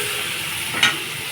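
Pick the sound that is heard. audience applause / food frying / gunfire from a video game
food frying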